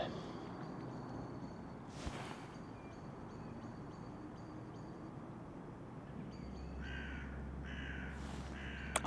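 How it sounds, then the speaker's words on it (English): Crows caw repeatedly at a construction site at sunrise, in several bursts of harsh rhythmic calls at moderate distance over a steady low outdoor rumble, with a couple of brief whooshes. "I can just hear the birds, man."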